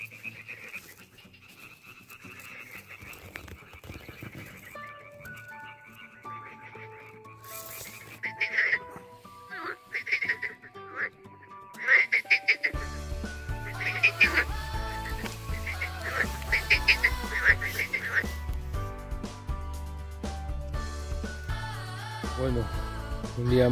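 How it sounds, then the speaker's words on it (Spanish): A large European frog croaking outdoors in Greece: scattered throaty calls at first, then a dense, noisier stretch of croaking and broadband rustle that builds in loudness. "esto es una rana europea, para que veáis qué cacho de ranote."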